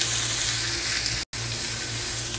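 Shrimp fajita with peppers being stirred in a hot frying pan, a loud steady sizzle throughout with a brief cut of silence midway.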